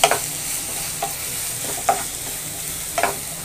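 Capsicum is sautéed with a little salt in a pan for chilli baby corn, giving a constant close sizzle broken by three or four distinct spatula scrapes and taps, with no voices.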